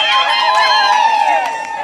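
Wedding guests fill the room with high, warbling ululation, several voices trilling together over faint clapping and crowd noise, lively and close throughout.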